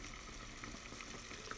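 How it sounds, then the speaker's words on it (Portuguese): Pork pieces fry in an electric pan, a soft, steady sizzle and crackle with faint pops running evenly throughout, fairly quiet and close with no talking. "estou fazendo uma carne na panela elétrica de porco"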